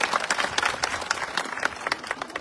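A crowd at a farmers' protest rally in a village near Sanand claps in an uneven burst. The individual claps are distinct and moderately close, and the applause thins toward the end.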